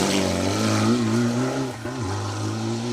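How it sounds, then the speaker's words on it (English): A Mitsubishi Evo rally car engine drones loudly nearby on a rally stage, pitch rising then dropping abruptly in a quick short-shifted gear change before climbing again. "Sound like they're short shifting in that Evo"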